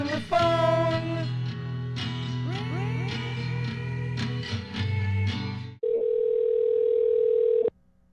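A steady telephone dial tone hums alone for about two seconds near the end of a phone call, after a stretch of music with layered tones.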